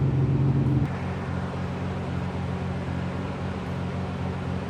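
A Nissan 300ZX with a swapped RB26 engine runs on a dyno in a steady, droning hum, louder for the first second and then settling into a constant lower idle-like tone, with no talking.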